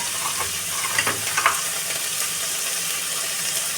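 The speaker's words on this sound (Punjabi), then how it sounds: "ਬਸ 3-4 ਮਿੰਟ ਹਲਕਾ ਜਿਹਾ ਇਸੇ ਨੂੰ ਫਰਾਈ ਕਰਾਂਗੇ" Vegetables and green chillies frying in a pan for spaghetti: a steady, close sizzle runs throughout, with a few soft scrapes and stirring knocks early on.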